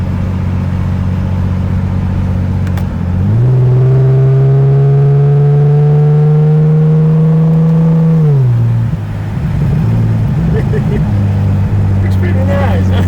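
A 2JZ-swapped Toyota GR86 with paddle shifters revs sharply on a downshift, its engine note climbing, holding a strained drone, then dropping back to a steady idle-like hum, close and loud throughout.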